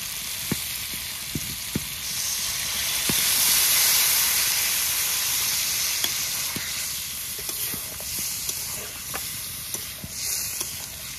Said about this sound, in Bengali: এখন একটু জল দিয়ে দেবো।